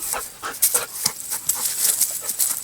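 A dog pants rapidly and close by, quick breathy huffs in a steady rhythm, with no voices.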